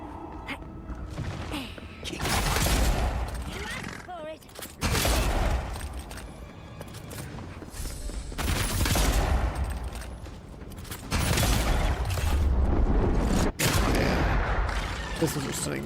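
Pistols firing in a fantasy action game, a run of sharp shots and bursts punctuated by heavier thuds, loud and dense throughout, with combat effects layered over one another.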